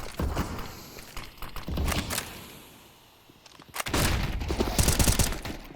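Bursts of Mac-10 submachine gun fire in Counter-Strike on the Vertigo map during a pro match, rapid rattling volleys at the start and a heavier sustained stretch near the end, with a quieter lull between.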